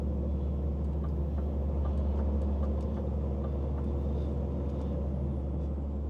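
A car towing a trailer rolls past on a road as a steady, loud low rumble with faint hiss, continuous throughout with no voices.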